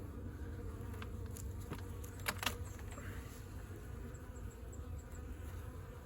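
Honey bees from a horizontal jumbo Langstroth hive buzz steadily and close during an open inspection, forming a continuous low hum with a few brief louder passes, and no talk.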